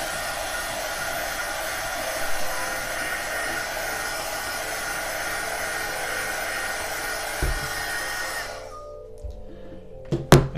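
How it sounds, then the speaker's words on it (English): A heat gun blasts hot air over fresh paint in a steady, loud, even roar that runs for about eight seconds, then cuts off, leaving a quiet room with a couple of light knocks. "I'm going to dry this real quick with the quick blast of the heat gun"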